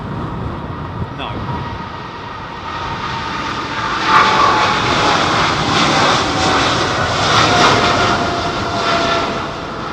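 Boeing 747 arriving at Heathrow Airport, a broad, loud jet roar that swells as the plane passes nearby and then holds steady. People talk quietly underneath.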